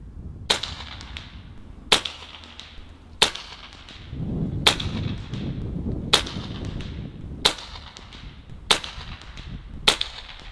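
Eight sharp rifle shots from a Barra 250z air rifle fired at a 100-yard target outdoors, each a crisp crack with a short decay, spaced roughly a second and a bit apart over faint background noise.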